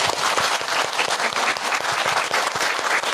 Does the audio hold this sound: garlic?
no